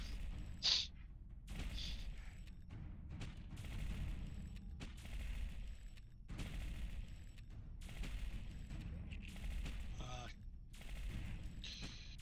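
Rapid bursts of gunfire in the video game Entropia Universe, repeated volleys every second or so with faint indistinct voices underneath, overall quiet in level.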